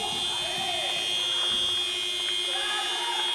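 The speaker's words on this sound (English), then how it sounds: "So the buzzer goes" At a futsal match, the half-time buzzer sounds as a sustained tonal blare that holds steady throughout, over crowd murmur and a commentator talking.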